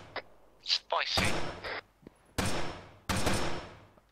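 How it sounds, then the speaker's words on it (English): Sharp, loud reports ring out in an Arma 3 military firefight, three distinct cracks spaced a second or so apart, each with a short echoing tail, after a brief bit of voice. "I just heard a sniper shot."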